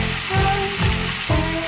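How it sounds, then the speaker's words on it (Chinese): Diced tomatoes fry loudly in a pan with bacon browned in butter and softened onion, a steady close sizzle with three soft stirring scrapes and no talk. "把切好的番茄丁倒上，多炒一会儿炒出番茄汁"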